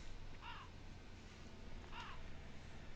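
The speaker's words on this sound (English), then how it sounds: "you can hear that there's a crow flying about" Two short crow caws sound in Tomb Raider 3's Thames Wharf level, a moderately loud call near 0.5 seconds and another near 2 seconds, set over a steady low ambient game hum.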